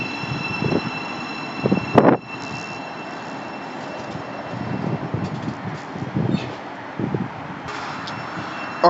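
A Thameslink Class 700 electric train, unit 700-040, pulls out of Mill Hill Broadway station on the Midland Main Line. It gives a low rumble and a rise of motor whine, with faint squeals and clanks of the wheels against the track.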